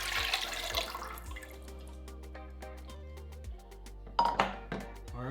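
Coconut milk is poured from one vessel into a larger pot for Jamaican cornmeal porridge, a steady liquid rush with a few metallic clinks of pot and utensil near the end, close by and without talk.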